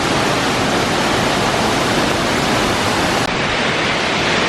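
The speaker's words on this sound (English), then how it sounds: "We're basically going waterfall chasing." Steady roar of a waterfall in Sapa, Vietnam, loud and close, a dense unbroken rush of falling water that continues alone with no voices over it.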